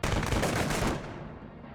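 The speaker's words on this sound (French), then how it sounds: "Le tonnerre des arquebuses naines retentit dans la vallée." Volley of dwarf arquebus gunfire thundering across a valley, a dense roll of overlapping loud shots for about a second, then a fading rumbling echo.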